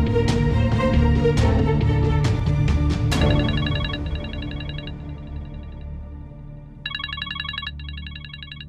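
A telephone number is dialed on a phone keypad: two bursts of short, evenly spaced electronic tones sound over music that plays throughout.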